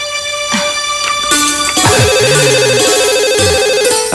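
A telephone rings in a domestic setting with a repeating electronic ringtone, a steady warbling trill that runs loud and close throughout over music and background sound.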